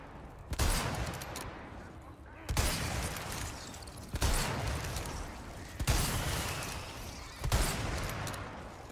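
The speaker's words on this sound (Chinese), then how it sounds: "就是一直开枪，还有一直开枪跟开枪" Gunfire from the Resident Evil 4 Remake on a farm: repeated loud bursts of shots arrive roughly every one to two seconds. Each burst trails into a dense, rumbling wash of game noise.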